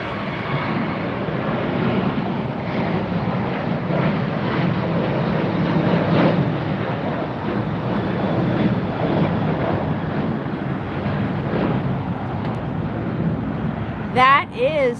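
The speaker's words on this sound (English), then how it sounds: "That is the Pixar Pier, special livery, Alaska Airlines." Alaska Airlines jet in Pixar Pier special livery departing LAX, a steady mid-distance engine rumble running throughout, with a voice breaking in briefly near the end.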